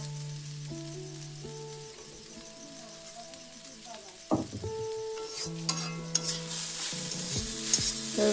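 Frying eggs stirred in a pan while making pasta, a steady soft sizzle with scraping and clinking of the utensil against the pan, louder bursts near the end.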